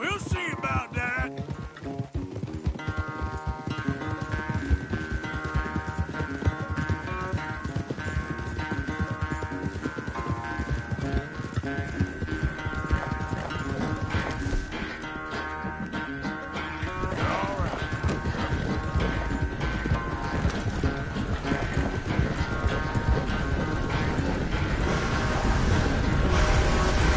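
Horses galloping in Red Dead Redemption 2, a fast, continuous clip-clop of hooves during a race, loud and close, with game music and ambience layered underneath.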